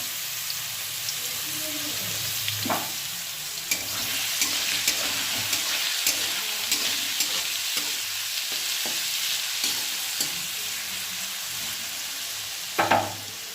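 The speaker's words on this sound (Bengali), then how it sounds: "আলুটা ভাজা হোক" Potatoes fry in a pan with salt and turmeric, giving a steady close sizzle with occasional stirring scrapes and a few sharper clatters, and no talk.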